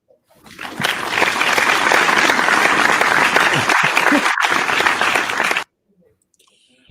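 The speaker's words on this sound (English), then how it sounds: "Cue the applause, Joe." A crowd applauds loudly and steadily for several seconds, then the clapping cuts off abruptly into near silence.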